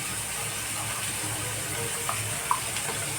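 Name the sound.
pouring water into a cooking pot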